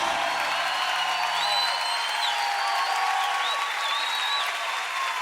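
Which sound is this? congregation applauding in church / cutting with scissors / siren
congregation applauding in church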